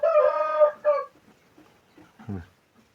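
Adult chickens in a warm poultry house let out one loud, drawn-out call followed by a shorter one, then only faint scattered clucks and shuffling nearby.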